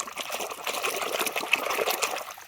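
Water runs and trickles steadily while small toy planes are washed, a soft continuous splashing close by with no talk.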